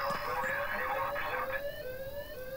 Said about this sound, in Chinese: 靠腰啊，他们叫警报啊！